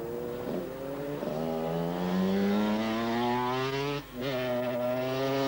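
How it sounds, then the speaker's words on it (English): A large four-stroke enduro motorcycle engine over 500cc revs up close by at a 1991 enduro world championship round in France, its pitch climbing steadily before a brief dip at a gear change, loud and continuous. "We're now thumping along with the big over 500cc four strokes."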